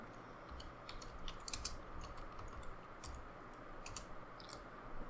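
Computer keyboard typing, apparently entering a web search for Tamil fonts: quick irregular key clicks, soft and close, over a steady background hiss with no speech.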